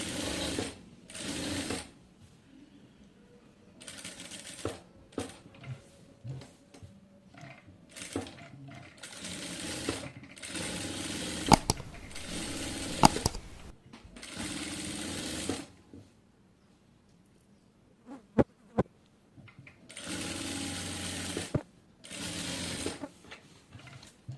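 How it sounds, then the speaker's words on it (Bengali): A sewing machine stitches a front neck design on a kameez in several separate runs, each a rapid mechanical whirring burst, with short pauses, faint clicks and quiet handling between them. "আমি সেলাই করে একদম ফিক্সড করে দেব।"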